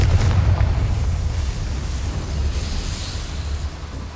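Casting the Confringo spell in Hogwarts Legacy sets off a loud, deep explosive rumble that fills the whole moment and then slowly fades to a low roar.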